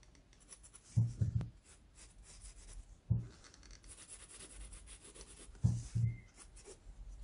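Pencil drawing collarbones on sketchbook paper, a few short, quiet scratchy strokes in clusters separated by pauses, close and soft.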